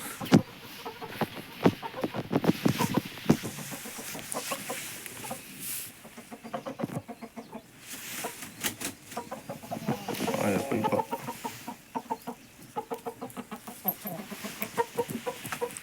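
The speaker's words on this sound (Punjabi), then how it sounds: "ਆ ਦੇਖੋ ਬਈ ਮੁਰਗਾ ਆਪਣਾ ਇਹ ਆਪਾਂ ਤਿਆਰ ਕਰਾਂਗੇ ਬਾਜੀ ਖਾਤਰ" A young rooster being raised for cockfighting clucks and squawks repeatedly up close, with short choppy calls scattered across the stretch and some background murmur.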